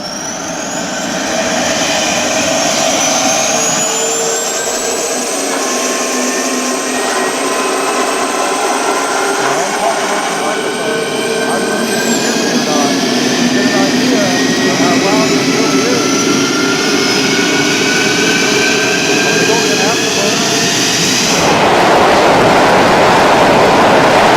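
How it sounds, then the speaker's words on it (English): A model F-16 jet's 12-blade electric ducted fan spinning up at startup: a loud, rising turbine whine with pitch sweeps and a roaring rush that stays intense throughout. "This is the compressor start."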